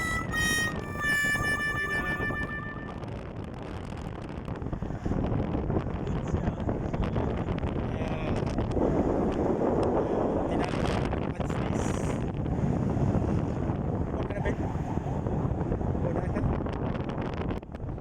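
Strong wind roars and buffets high up on a rusty tarpaulin billboard structure, a loud, continuous gusting rush that swells and eases over time, with a brief voice near the start.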